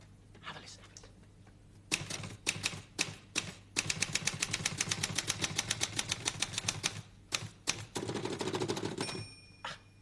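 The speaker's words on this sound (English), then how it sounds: "have a listen to the different sounds a typewriter makes" A manual typewriter clacks in rapid bursts of sharp keystrokes, with brief pauses between runs, recorded close and clear.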